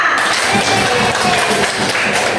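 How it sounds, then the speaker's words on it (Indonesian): Classroom of students applauding together, a dense, steady wash of clapping hands lasting a couple of seconds at fairly loud level, with scattered voices mixed in. "Oke, tepuk tangan semuanya."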